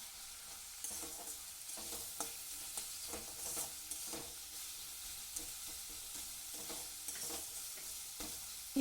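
Spice masala with salt and a little sugar being stirred in hot oil in a pan: quiet, even sizzling with regular soft scrapes of the spoon, close by and alone.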